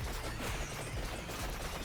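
The evolved Rune Tracer weapon in Vampire Survivors sets off rapid chains of explosions, a dense, loud crackling barrage of overlapping pops and booms that never lets up.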